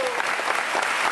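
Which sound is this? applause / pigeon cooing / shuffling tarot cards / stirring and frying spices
applause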